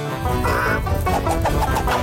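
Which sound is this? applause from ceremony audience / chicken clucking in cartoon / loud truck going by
chicken clucking in cartoon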